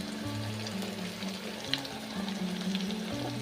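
Ground masala paste frying in oil in a pan for palak chana masala, a steady close sizzle and crackle with faint stirring scrapes throughout.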